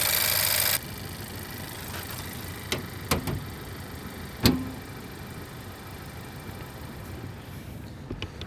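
A Honda Civic hatchback Sport Touring idles with the hood open. Its engine gives a steady, even mechanical hum with little exhaust note, broken only by a few faint clicks and a soft bump midway.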